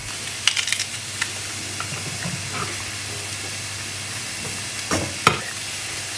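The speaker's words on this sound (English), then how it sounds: "I'm just going to fry them as well" Basil stalks and garlic cloves fry in a pan with a steady close hiss and sizzle, broken by a few sharp clicks and scrapes of stirring, and no one speaks.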